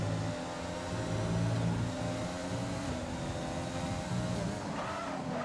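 A race car in a racing video game during a Belgian Grand Prix, engine droning steadily with a shift in pitch as the tyres lock up under braking, moderately loud and continuous.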